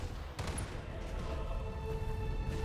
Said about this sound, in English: Peppering us with some kind of irrelevant gunfire.